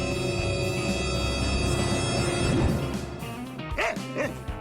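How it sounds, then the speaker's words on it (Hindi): A dog barks and yips amid a busy home scene, a few sharp calls rising near the end over steady background music or noise, fairly close. "एक कुत्ता?"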